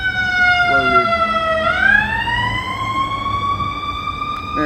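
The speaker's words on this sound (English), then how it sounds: "So we'll watch the ambulance come through here." Ambulance siren wailing loudly nearby on a Chicago street, its pitch sliding down and then sweeping back up as it passes, with steady traffic rumble underneath.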